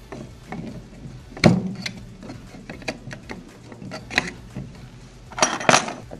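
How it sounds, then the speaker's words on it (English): Screws are driven into small parts of a mini 3D printer build, giving close, scattered clicks and ticks of metal and plastic, one sharp knock near the start and a brief scraping burst near the end. "Attach the rest of the screws"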